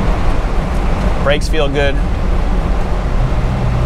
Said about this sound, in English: Slight wind noise because of the convertible top